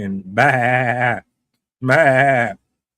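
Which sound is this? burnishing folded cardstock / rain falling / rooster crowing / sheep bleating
sheep bleating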